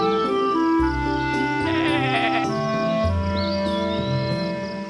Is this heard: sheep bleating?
yes